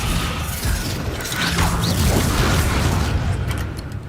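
Descendo spell in Hogwarts Legacy slamming a target down with a heavy boom and crash, dense low rumbling impacts running throughout amid game effects.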